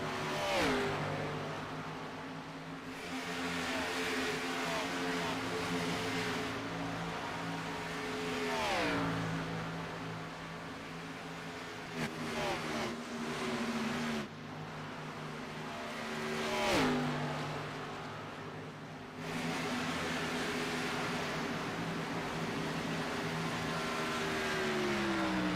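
Race cars lapping the Kansas oval in a racing game, a steady droning engine roar with rising and falling pitch as cars shift and pass, continuous and fairly close, with no talk over it.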